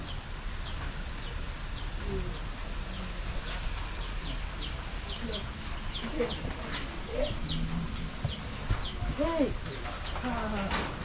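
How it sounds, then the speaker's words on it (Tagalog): Birds chirp and sing in short, repeated high calls against steady outdoor background noise, with some farmyard clucking and a voice speaking now and then. "Narinig niyo ba yung mga kanta ng ibon?"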